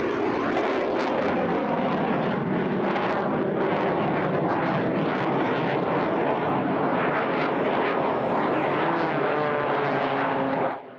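An Extra XA42 aerobatic plane flies over Pardubice airfield during an airshow, its propeller engine droning loud and steady, with pulsing surges as it maneuvers, before cutting off abruptly at the end.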